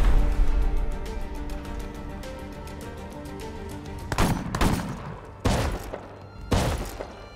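AK rifle fire in the video game Rust: a few loud, sharp gunshots ring out in quick bursts near the end, set against a steady background game drone.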